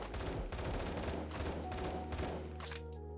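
PPK-12 fire from the game Phantom Forces rings out in several rapid bursts of crisp, punchy shots, with the last burst trailing off into a fading echo.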